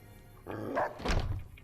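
A dog in Fallout: New Vegas lets out two short, muffled barks in quick succession, fairly close and with no talk over them.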